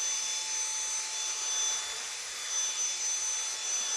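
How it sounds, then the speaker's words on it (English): Dyson V8 cordless vacuum cleaner running on its lowest power setting over carpet, giving a steady, fairly quiet high-pitched whine and airy hiss with a faint tonal hum. "now with the Dyson on its lowest power"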